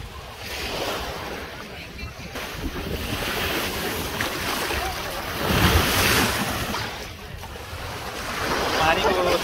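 Ocean waves washing ashore at La Mer beach in Jumeirah, Dubai, a continuous surf roar with heavy wind buffeting the microphone, swelling louder near the middle and end.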